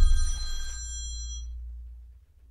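A mobile phone rings once, a bright electronic ring that cuts off early and leaves a low hum fading in the background, heard indoors during a casual conversation among friends with no talk over it.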